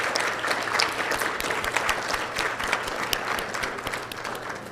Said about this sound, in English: Let's give a great round of applause for some of our administrative professionals right now.